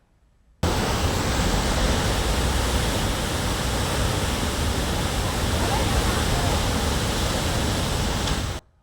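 Rain-swollen Auranga river in flood, heard as a loud, steady roar of rushing water that starts abruptly and continues without letup, with no talking.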